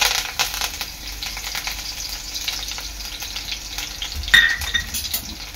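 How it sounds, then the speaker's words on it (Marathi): Garlic, curry leaves and cumin sizzle steadily in hot oil for a tempering, with a brief clink of a utensil near the end. "तेल चांगलं गरम झालेलं आहे। यामध्ये मी लसूण, कढीपत्ता आणि जिरं टाकते फोडणीला।"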